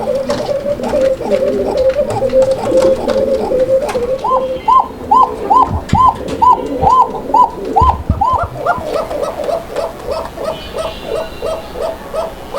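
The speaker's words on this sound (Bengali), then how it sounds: "এই কোকা কবুতরই একমাত্র কবুতর যেই কবুতরটা আসলে কবুতরের মতোই ডাকে না ওর ডাকটা আলাদা" A koka pigeon gives a rapid series of short, evenly spaced cooing notes, repeated in quick rhythmic bursts, close and clear against faint background noise.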